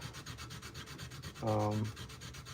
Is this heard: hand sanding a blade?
yes